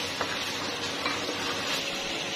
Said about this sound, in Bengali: তো এই তো নেড়েচেড়ে নিচ্ছি, মশলাগুলি দিয়ে ভালোভাবে কষাই নিচ্ছি